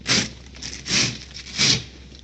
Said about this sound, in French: Il y a une ouverture, une fermeture éclair.